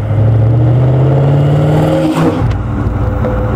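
The 4.9-litre, 335 hp V8 of a classic Maserati Ghibli roars loudly up close. Its deep engine note rises in pitch, then settles into a steady, throaty drone.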